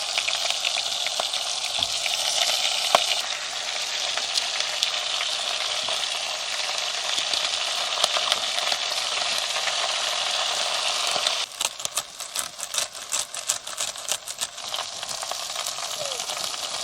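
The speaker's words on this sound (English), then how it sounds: "gonna cook up some pork belly now. Got some broccoli, cauliflower and sprouts to go in the pan as well" Pork belly with broccoli, cauliflower and sprouts sizzles in a pan, a steady close frying hiss with sharp crackles and pops growing busier toward the end, with someone speaking briefly over it.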